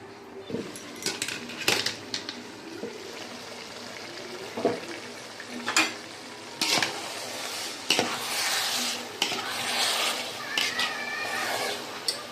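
Soya dum biryani is stirred in a pan now and then, giving soft scraping and clinking strokes over a faint sizzle, with light background noise throughout.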